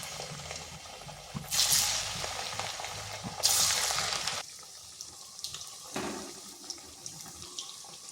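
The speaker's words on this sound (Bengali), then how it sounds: "এখানে কড়াইতে তেল বসিয়েছি, এরপর এগুলো দিয়ে দিচ্ছি" Rice flour pitha is dropped into hot oil in a wok. Two loud bursts of hissing sizzle come as the pieces go in, then fade to a quieter, steady frying crackle with no talk.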